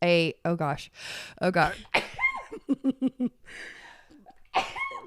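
A person sneezes loudly in a close, dry room during a casual podcast chat, a sharp burst that cuts through steady talking and light laughter, with voices continuing right around it.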